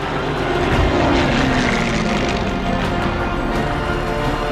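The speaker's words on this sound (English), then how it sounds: "planes zooming overhead in huge formations" Propeller aircraft flying overhead in formation above a hysterical crowd in Paris streets, a steady loud droning engine roar filling the whole stretch without pause.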